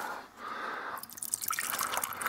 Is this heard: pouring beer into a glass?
yes